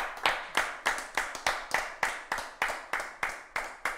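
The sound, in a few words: studio audience applauding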